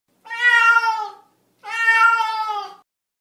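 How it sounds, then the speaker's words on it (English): A cat meows twice, two drawn-out harmonic calls of about a second each separated by a short pause, clear and close with no other sound. "Cat."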